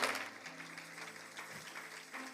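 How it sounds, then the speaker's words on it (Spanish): A church congregation keeps clapping in a continuous, moderately loud wash of applause, with an organ-like held tone underneath. "Denle un fuerte aplauso a Dios"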